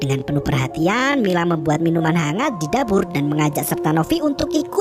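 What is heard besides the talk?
None of the usual background noises is heard.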